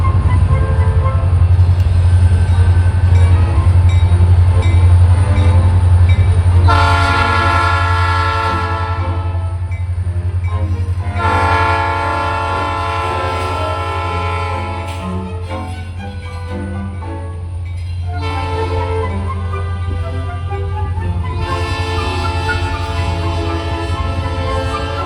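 A Norfolk Southern local freight led by an ex-Conrail GP40-2 diesel rumbles past close by, its horn blaring in several long, loud blasts over the steady engine drone and wheel noise.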